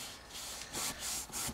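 Paper being folded over into a tape hinge for a handmade mini album, giving soft close rubbing and creasing swishes that come in a few short bursts, with no talk.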